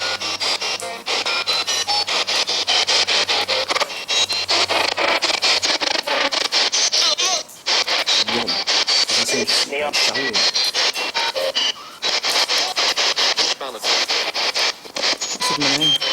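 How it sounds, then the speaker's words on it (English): An SP7 Spirit Box sweeps rapidly through radio stations at an abandoned hospital, producing continuous loud choppy white-noise static broken by fragments of broadcast sound, with people speaking over it. "a device that scans through radio stations at a steady pace and conducts endless white noise for spirits to talk through"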